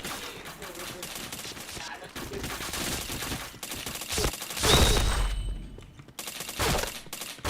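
Rapid bursts of gunfire from a shooting video game, several dense volleys with a loud peak near the middle, played over faint talk and background game noise.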